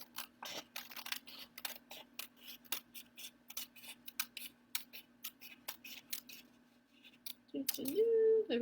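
Scissors snip through paper to cut out a rainbow spinner, a close run of short, crisp cuts in an irregular rhythm, followed by a brief hum or voice near the end.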